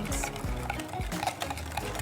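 Vegan cake batter with flax egg being mixed by hand in a bowl, a steady close scraping and sloshing churn with soft rhythmic strokes and no talk.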